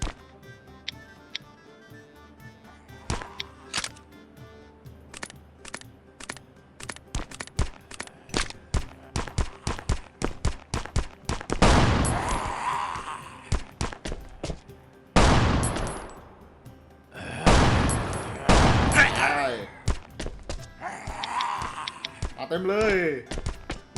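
Gunfire at zombies in the game Last Island of Survival: steady rapid single shots building into dense bursts, loud and close, with a voice talking over much of it.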